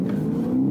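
Lexus GS F accelerating on a race track at Palm Beach Raceway, heard from inside the car: a steady, loud engine drone with a rising tone, continuous through the short span.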